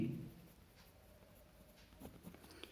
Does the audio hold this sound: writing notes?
yes